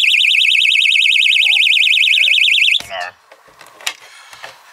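A Milenco motorhome window alarm sounds a loud, continuous warbling electronic siren for almost three seconds, then cuts off abruptly, leaving quieter handling noises and a voice.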